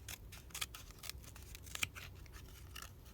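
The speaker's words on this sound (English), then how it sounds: "I'm using the wrong scissors, Barbara." Scissors trim a paper craft, a series of quick, crisp snips and clicks in an irregular rhythm, close by but fairly quiet, with no talking.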